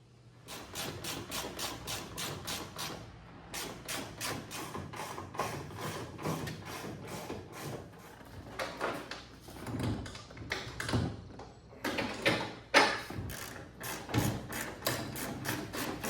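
Repeated ratcheting clicks come from a wrench tightening a nut while a new boat transom is built, with busy mechanical clacks and taps at close range through much of the span and no talk.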